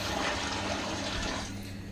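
Water rushes and gurgles as it is emptied from the cistern of a close-coupled toilet, a short, close pour that thins out toward the end.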